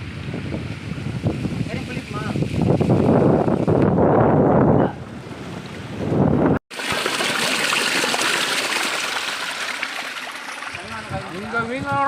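Forceful stream water rushes and roars steadily, loud and close with wind buffeting the microphone, while people talk over it.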